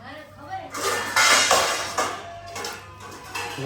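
Metal pots, pans and dishes clatter and clank in a home kitchen, a burst of loud, uneven rattling and knocks running continuously, with no talking heard.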